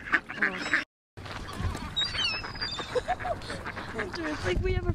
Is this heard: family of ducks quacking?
yes